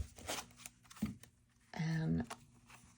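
A brief riffle of tarot cards being shuffled rustles close by, under a person talking.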